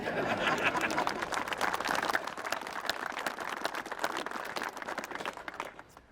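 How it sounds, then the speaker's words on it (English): Audience applause fills a bill signing ceremony for a tax cut in Montana, steady dense clapping from a roomful of people, loud and continuous before easing off at the end. "Saving Montanans, you can applaud for that"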